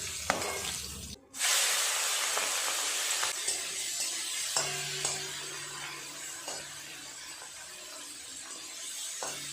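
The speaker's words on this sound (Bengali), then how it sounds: "চিংড়ি মাছগুলো এবার ভেজে নেব। মাছগুলো ভাজা হচ্ছে" Shrimp frying in a pan of hot oil, a soft continuous sizzle with a few light utensil taps and stirring sounds, moderately quiet and without speech.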